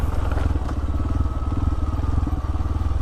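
A motorcycle-taxi engine rumbles steadily and loudly up close, with a throbbing low pulse on a rural road route near Tulungagung.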